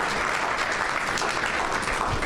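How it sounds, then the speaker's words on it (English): Applause from a summit audience for two presenters, a steady dense clapping throughout, loud and close, with no talk over it. "Let's give Arcela and Lilia a round of applause"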